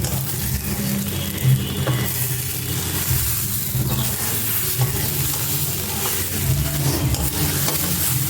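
Rice, lentils and spices being stirred and sautéed together in a pot for khichuri, a steady scraping and sizzling texture with faint rhythmic clatter, close and continuous throughout with no talking.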